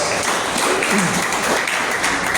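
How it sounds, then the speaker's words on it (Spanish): Congregation applause during a church sermon, a short burst of dense clapping from many people filling the room at a steady level. "¿Cuánto le dan un aplauso a él?"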